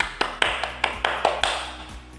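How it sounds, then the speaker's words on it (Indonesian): Students in a multigrade classroom applaud a group that has just presented, giving about ten sharp, evenly spaced claps at a quick steady rhythm, close and clear. "Tepuk tangan untuk kalian semua"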